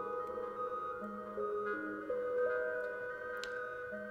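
A bell-like tone from a modular synthesizer rings steadily, its sustained pitched notes stepping up and down in a continuous line with no talking.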